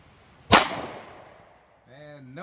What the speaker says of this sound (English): now 5 rounds out of the 1911 on the right B8 target